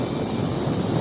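An M70 handheld cooling fan blows air close by, making a steady, loud whooshing rush that holds level throughout with no voices.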